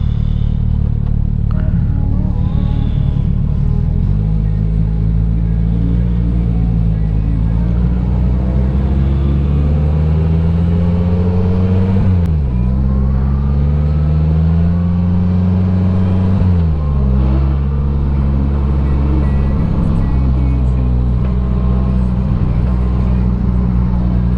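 A 2023 Polaris Slingshot S rounding a roundabout, its engine droning steadily, then dropping and rising in pitch as it slows and accelerates back out, loud and close with some road clatter and no talking.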